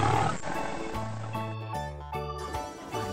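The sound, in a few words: lion roaring in dinosaur video game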